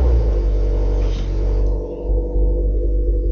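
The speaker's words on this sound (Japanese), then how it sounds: "ちょっとエンジンかけてみましょう。" A Toyota 86 2.0 GT fitted with an HKS muffler cranks and fires up close by, its exhaust settling into a deep, steady idle rumble with a brief dip and swell in level; no voices.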